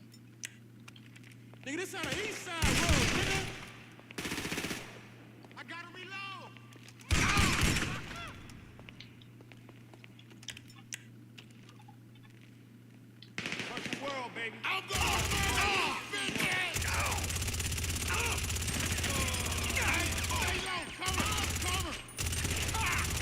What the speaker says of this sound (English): Man, I hate this gunfight.